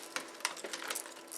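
A quick scatter of small hard M&M candies clattering onto a surface, light rattling ticks spread over a second or so, close by with no talking.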